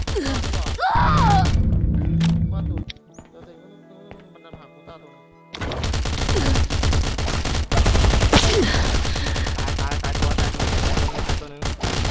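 Gunfire in the Last Island of Survival game: bursts of rapid automatic shots and heavy thuds, a quieter lull in the middle, then more sustained firing, with someone talking over parts of it.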